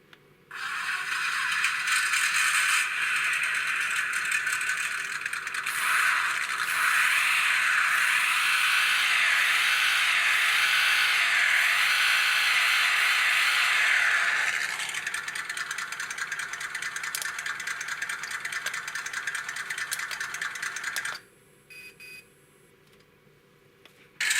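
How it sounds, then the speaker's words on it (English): A buzzy synthetic engine hum from an Orlandoo Hunter OH32X01 1/32 rock crawler RC car revs up and down continuously, rising to a higher whine in the middle before cutting off near the end. "There are 2 car sounds you can choose from the aux menu"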